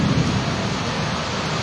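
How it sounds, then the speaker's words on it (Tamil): Steady broadband storm roar of thunder rumbling amid rain during a lightning storm at Elanthangudi near Mayiladuthurai, a continuous low rumble with dense wash on top, no voices. "இடி மின்னல்"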